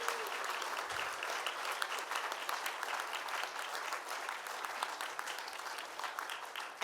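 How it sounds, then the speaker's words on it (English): A banquet audience at the National Press Club presidential inauguration gives Susan Goldberg a round of applause, a dense, even roar of clapping that holds steady throughout at moderate distance. "I would really love another round of applause for Susan Goldberg"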